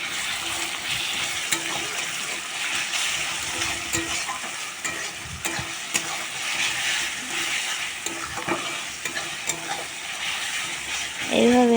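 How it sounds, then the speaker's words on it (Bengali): Ground spice powders are stirred with a little water in a bowl for a chicken curry, giving a steady wet scraping and swishing that carries on close and fairly loud, with a few sharper clinks along the way. "আমি দেখুন মশলাটা গুঁড়ে নিচ্ছি একটু বাটিতে"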